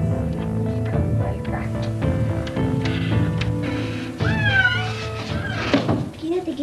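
Cartoon cat meowing in an animated children's series, several drawn-out rising meows near the end over a busy music bed and voices.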